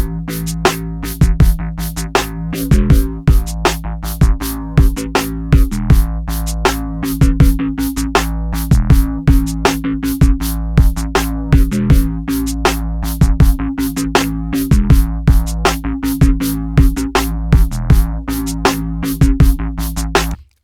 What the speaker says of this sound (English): So you can also use the noise widener on a sound like this.